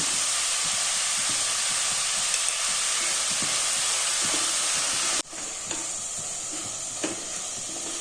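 Chicken sautéing in a pan with salt, a steady close hissing sizzle with faint stirring clicks that drops abruptly in loudness partway through, then continues more softly.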